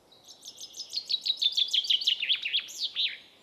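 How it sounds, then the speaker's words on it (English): A chaffinch in Britain sings a bright, rapid series of descending trilled notes ending in a flourish, clear and fairly close against quiet background. "Chaffinches sing in local dialects."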